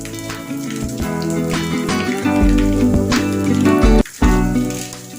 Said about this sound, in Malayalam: വറ്റൽമുളക് അഥവാ ഉണക്കമുളക് ഇങ്ങനെ നടുവേ കഷ്ണങ്ങളാക്കിയത് ചേർത്ത് കൊടുക്കാം